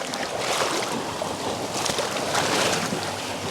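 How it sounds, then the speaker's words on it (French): Waves slap and splash against a small fishing boat on the Saône river in summer, a steady, close, broadband wash of water with bumps of hull motion, no talking. "Ouh là là, les vagues là, je fasse gaffe."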